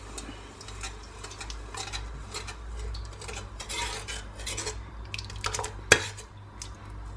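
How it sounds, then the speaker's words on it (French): A spoon scrapes and clinks in a pot of tomato soup while tomato is stirred in, with soft irregular rasps and taps and one sharp knock near the end. "Je viens mélanger."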